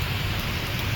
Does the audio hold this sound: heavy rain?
yes